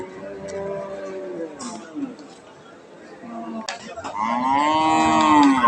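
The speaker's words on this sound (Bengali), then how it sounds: "একবারে বিশাল সাইজের গরু একটা" A large Holstein Friesian dairy cow at a cattle market moos loudly and close, with long drawn lowing calls in the middle and at the end, while people chatter in the background.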